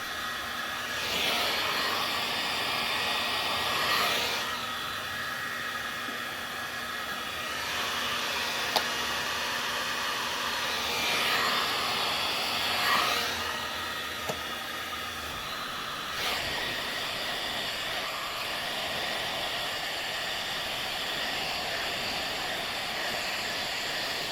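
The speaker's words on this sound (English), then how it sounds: "I work slowly with gentle heat, letting the film soften so it can naturally form around that tricky curve without lifting or wrinkling" A heat gun blows gentle heat onto tint film being fitted over a curved Mercedes C63 headlight, a steady airy hiss with slow swells and dips as it moves, running throughout with no speech.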